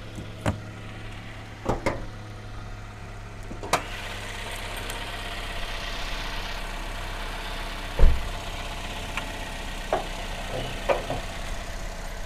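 The engine of a used car for sale at a dealer idles steadily with a low, even hum, and a few sharp clicks and knocks pop up now and then over the running motor.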